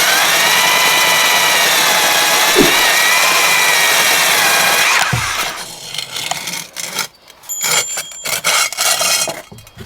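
A diamond core drill grinds steadily through concrete blockwork with a high whine for about five seconds, then cuts out into scraping and rattling noises that stop and start.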